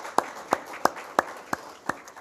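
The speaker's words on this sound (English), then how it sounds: "I'll give you applause for that" Slow, evenly spaced single claps at a senior awards event, about six sharp hand claps in two seconds over a quiet room, as if from one person or a sparse group.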